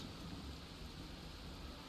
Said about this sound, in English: Really? This is the storm.